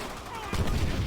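Gunfire in the World War II shooter game Call of Duty: World at War, a short burst of dense, booming shots erupting midway after a quieter opening.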